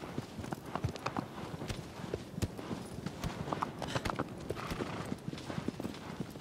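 A horse gallops in the video game Shadow of the Colossus, rapid rhythmic hoofbeats thudding steadily and close throughout.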